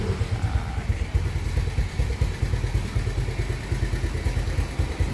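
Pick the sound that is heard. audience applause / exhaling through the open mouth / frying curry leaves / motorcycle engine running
motorcycle engine running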